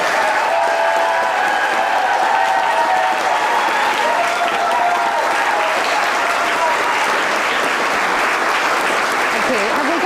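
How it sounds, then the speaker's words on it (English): An audience at a Shakespeare performance grand final applauds steadily and loudly throughout, a dense continuous patter with faint voices mixed in. "give them a round of applause"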